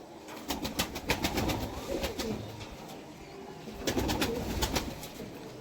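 Kamagar pigeons, a high-flying breeding pair, coo nearby in low, throaty rolling calls that come in two clusters, with a few faint flutters and background bustle.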